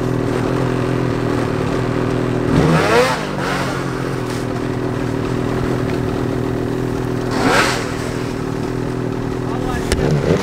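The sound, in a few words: snowmobile engine revving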